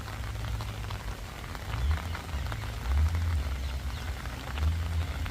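Steady rain patters on a surface at Artis Zoo in Amsterdam, a dense hiss of drops with low rumbling swells, continuous and unaccompanied by voices.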